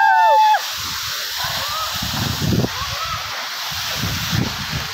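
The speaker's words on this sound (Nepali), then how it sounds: "फाइनली गाइस हामी चाहिँ झरना आइसकेको छौँ" A waterfall reached on a hike sends up a steady, moderately loud wash of rushing, sloshing water, opening with a brief sharp whistle-like tone before the continuous roar settles in with occasional surges.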